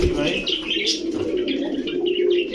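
Restless pigeons held in hand coo and chirp close up, with brief flutters and rustling, while a person talks over them throughout.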